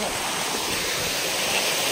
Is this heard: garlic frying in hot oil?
no